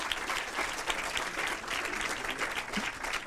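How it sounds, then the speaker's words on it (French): Steady applause from a crowd fills the whole stretch, dense and even, with no pauses. "On peut applaudir."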